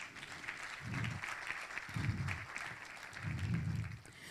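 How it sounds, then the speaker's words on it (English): An audience claps at a human rights defenders awards ceremony, a steady moderate round of applause heard at a distance, with a low voice murmuring intermittently underneath. "Please clap for them."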